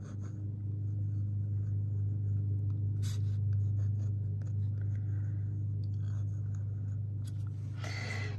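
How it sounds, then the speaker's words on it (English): A Hong Dian fountain pen fitted with a Fude nib scratches across paper in steady, close strokes, soft and continuous over a constant low hum. "I'll write that down."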